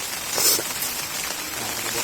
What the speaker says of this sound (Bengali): এতটা পরিমাণে বৃষ্টি স্টার্ট হয়ে গেছে না দেখো ওয়েদার খুবই খারাপ